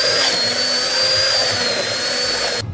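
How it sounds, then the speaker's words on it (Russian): A blender crushes berries with a loud, steady motor whine that holds for a few seconds and then cuts off abruptly. "мы измельчаем ягоды блендером, либо протираем через сито"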